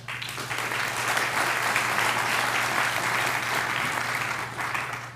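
An audience at an academic convocation claps in sustained, dense applause that stays full and even throughout, with a faint low hum beneath.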